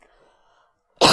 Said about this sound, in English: Sorry for coughing at you guys.